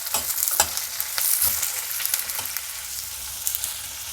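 Onion, garlic and curry leaves fry in oil with a loud, continuous sizzle, overlaid by a series of quick stirring scrapes, close and with no talk.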